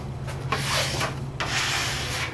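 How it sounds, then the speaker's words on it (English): A sanding pole scrapes over dried drywall compound covering screws, giving two steady, close rasping strokes of about a second each over a low constant hum. "run my sand pole right over the screws really, really easily"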